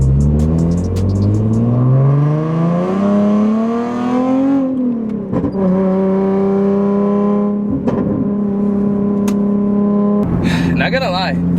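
A car driving like a race car, its engine rising in a loud close whine through the gears, then settling into a steady drone with brief shifts and bumps.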